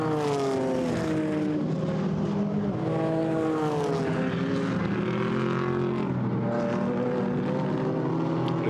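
GT4 race cars, including a Ginetta and a BMW, roar past at the Paul Ricard circuit during a European Series race, with loud, steady engine notes whose pitch rises and falls through gear changes as the pack runs close together.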